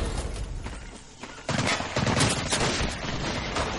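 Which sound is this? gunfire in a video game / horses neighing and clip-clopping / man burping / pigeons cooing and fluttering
gunfire in a video game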